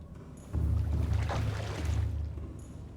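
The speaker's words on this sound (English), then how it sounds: "Why does that sound like water when I go across there?" Water swishing while moving across an area in the video game Subnautica, a soft rushing splash that swells and lingers for about two seconds, fairly quiet and without talk.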